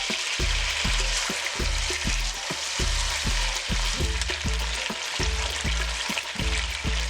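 Chicken pieces with onion, cinnamon and bay leaves sizzle and fry in a pot for wheat and chicken soup, with a spoon stirring in a steady, repeated scraping rhythm, close and loud.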